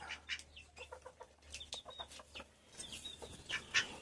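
Hens clucking as they forage, with several soft, scattered clucks and short calls from birds close by over light background rustling.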